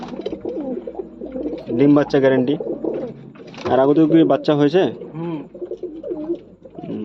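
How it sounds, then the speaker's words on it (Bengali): Owl pigeons coo in deep, throaty rolling calls at close range, repeating in bursts while someone talks over them. "দেখুন মুস্তফা ভাই আউল পায়রার শখ করাচ্ছে"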